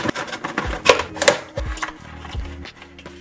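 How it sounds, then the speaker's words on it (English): Cardboard box holding a Logitech Signature Slim Solar keyboard being cut open with a knife: close, irregular scraping, tearing and clicking bursts for about three seconds, loud and uneven, with no talk. "let's get our knife out and get this thing sliced open"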